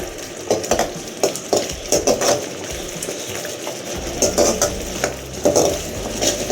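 Rhythmic scraping of a spoon stirring sambar rice masala in a pot, repeated strokes with a soft bubbling sizzle underneath, close by and without talk.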